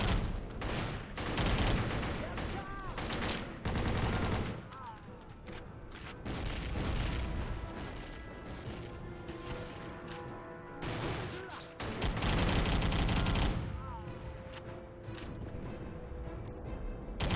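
Video game gunfire mows down waves of enemies in dense, rapid bursts of shots and booms that stay loud and continuous for the whole stretch, with brief lulls between volleys.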